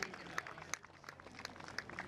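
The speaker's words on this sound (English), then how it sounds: "I think they deserve a round of applause" Sparse, scattered clapping from a small audience honoring the hosts of a high school boys' lacrosse tournament, individual claps distinct and somewhat distant in a large space, with faint murmuring underneath.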